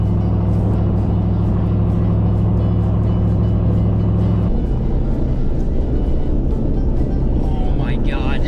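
Inside a moving Chevrolet Silverado ZR2 pickup fitted with 44-inch tires, a loud, constant low engine and road drone fills the cab, with a heavy rumbling hum that shifts partway through.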